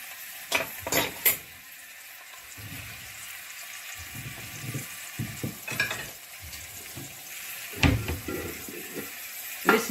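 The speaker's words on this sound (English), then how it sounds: "So the beef doesn't need very long on each side because it's only being seared," Beef brisket sears in a hot pan just after being turned, a soft steady sizzle broken by several sharper clatters and scrapes of utensils against the pan.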